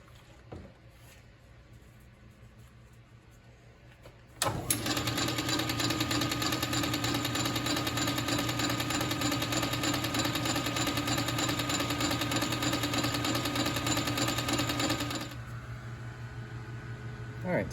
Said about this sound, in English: as it spins, we're just going to walk the edge up against this section of the burnishing tool here